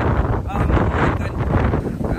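Strong wind buffets the microphone during a river trip at Mt. Pinatubo, a loud continuous low rumble with gusty surges, while people talk and shout over it.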